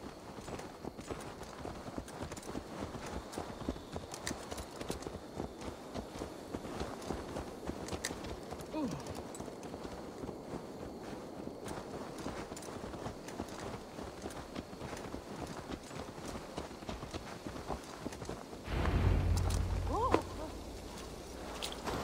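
Horse hooves clip-clop at a steady walking rhythm in Assassin's Creed Valhalla, a continuous sequence of soft, close hoofbeats that runs throughout, with a brief louder rumble near the end.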